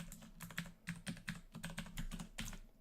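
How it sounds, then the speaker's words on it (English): Rapid typing on a clicky IBM-style DOS computer keyboard, with crisp, uneven bursts of key clacks close up and no voices. "clicky-clacky IBM style keyboard"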